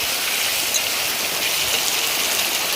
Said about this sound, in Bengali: আবারও জোরে জোরে বৃষ্টিটা চলে এলো।